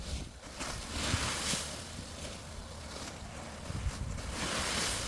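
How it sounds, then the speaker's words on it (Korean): Wind blowing outdoors on a farm during perilla threshing, a steady rushing gust with buffeting against the microphone that swells and eases over several seconds. "지금 바람 분다"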